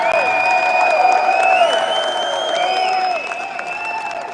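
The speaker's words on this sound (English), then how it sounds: "Give them all a round of applause that are out in that back room." A crowd applauds and cheers at a statehouse hearing on the 2nd Amendment, with clapping under loud tonal whistles and shouts that ring through a large hall.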